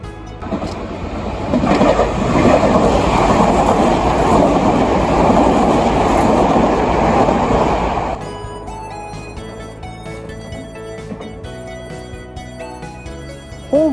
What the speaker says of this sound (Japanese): N100 系が通過しまして